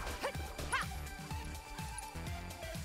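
An in-game dog from Final Fantasy VII Rebirth yelps and barks in short bursts during a fight, set against a steady bed of game music and effects.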